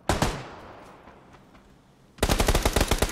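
Automatic gunfire in PUBG on the Erangel map: a quick opening burst of shots, a lull of faint background noise, then a loud, rapid string of evenly spaced shots to the end.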